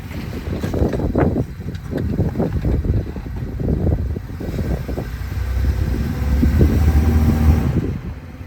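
A Jeep Wrangler TJ driving on a test ride, with a loud steady engine rumble and road noise mixed with buffeting wind across the microphone throughout.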